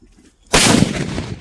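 A Sivakasi firecracker bursts in one sharp, loud blast after a quiet lead-in, and the noisy crackle and rumble of the explosion trail on to the end.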